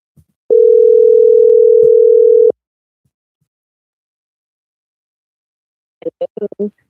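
A steady telephone dial tone sounds loud and unbroken for about two seconds before a phone call, then silence, followed by a short burst of speech.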